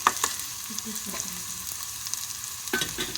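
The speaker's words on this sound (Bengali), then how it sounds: "পেঁয়াজটাকে খুব লাল লাল করে একটু ভেজে নেব" Onions frying in a pan until deep red, a steady close sizzle with brief stirring scrapes, no speech.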